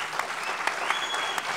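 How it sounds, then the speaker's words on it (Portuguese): An audience at a marginal literature session applauds, giving steady, moderately loud clapping with a few sharper claps standing out, along with a faint sustained tone. "por favor, aplausos."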